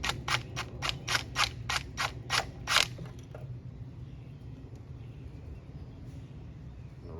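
A wrench works bolts loose on a 350 four-bolt-main small block engine: a quick run of about ten sharp ratchet clicks, close and crisp, then a quiet steady hum of the room, with no talk.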